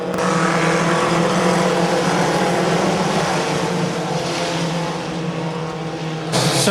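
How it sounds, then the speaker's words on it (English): Mini stock race cars roar around the dirt oval at Ohsweken Speedway, several engines blending into one loud, sustained drone of a pack running close together, with no talk over it. "So Dan Stewart and Ethan Martin drag raced into turn number 1, and Ethan Martin came out with the lead initially here"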